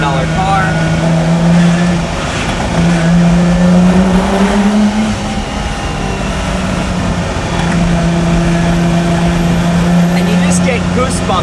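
Lamborghini Miura SV engine revving loud and close around 4,000 RPM from inside the car, rising and falling over several sustained pulls with a throaty, racing-style drone, faint talk beneath.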